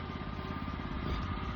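A farm machine engine drones steadily while plowing a field in the Philippines, a close, continuous, throbbing idle-like rumble.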